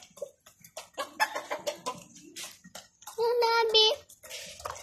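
Backyard chickens cluck in short, close bursts, with one long loud squawking call near the end; a few soft voices are heard faintly between the clucks.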